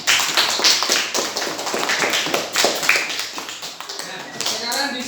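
A classroom of students claps for the kinesthetic group after its presentation, producing a dense, steady patter of hand claps that runs through the whole span with voices mixed in.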